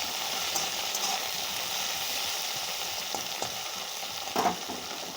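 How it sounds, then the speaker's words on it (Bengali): Pieces of pointed gourd (potol) fry in hot oil, giving a steady close sizzle with a brief louder crackle near the end. "পটলগুলো বেশ ভালো লাল লাল করে ভেজে নিতে হবে"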